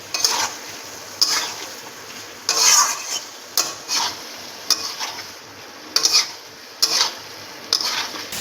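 Paneer butter masala being stirred and sautéed in a pan, a low simmering sizzle broken by repeated rhythmic scrapes and clinks of a spoon against the pan, close and without talk.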